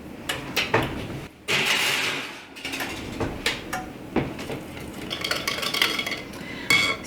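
Batter being whisked in a bowl sounds like close, uneven rattling and clinking strokes against the bowl, broken by short pauses, with a quick run of rapid ticks near the end.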